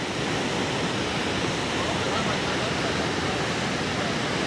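Heavy water rushing through the Taunsa barrage on the river, a steady, loud, broadband roar like a waterfall that fills the whole clip without pause.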